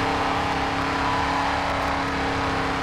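A V8 race car engine roars and revs steadily in the racing game GRID 2, a dense continuous drone that holds loud throughout with no pause.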